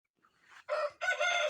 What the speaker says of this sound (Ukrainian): Бігає тут курчата